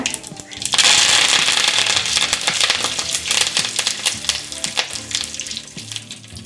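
Dried red chillies and curry leaves crackle and sizzle loudly in hot oil with urad dal for a lemon rice tempering, a dense, steady spitting hiss that holds up close for several seconds.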